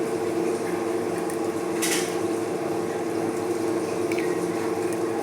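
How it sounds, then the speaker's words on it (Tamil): A pot of moong dal sambar with onions boiling on the stove, a steady bubbling simmer with a faint clink near the middle and no one talking. "பருப்பு அடுப்புலேயே வேகட்டும் வெங்காயம் போட்டு நல்லா கொதி வருது பாருங்கள்"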